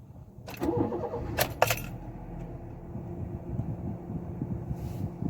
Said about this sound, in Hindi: अब गाड़ी करेंगे स्टार्ट